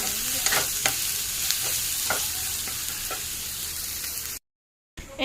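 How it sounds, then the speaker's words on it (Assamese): Onions fry in oil with salt and turmeric, sizzling steadily while a spatula scrapes and knocks the pan in a loose rhythm, close and fairly loud before a short break. "ইয়াখিনি এতিয়া গল্ডেন ব্ৰাউন হোৱালৈকে ভাজি থাকিম"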